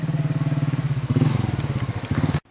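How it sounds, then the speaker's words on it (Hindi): A motorcycle on a rough village road putters close by with a steady, pulsing engine beat, swelling slightly midway with some rattling before it stops abruptly. "मोटरसाइकिल चलाना भी इतना अजाब है जी इस रोड पर।"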